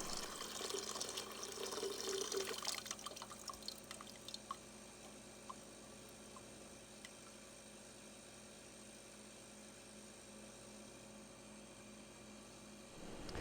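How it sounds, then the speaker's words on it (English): Liquid from a gold extraction of dissolved pins pours into a new beaker, giving a splashing, trickling stream for the first few seconds, then only quiet drips and faint background hiss. "it was time to pour it into a new beaker"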